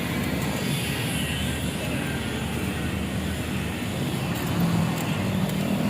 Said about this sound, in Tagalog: O sakay ako ng tricycle.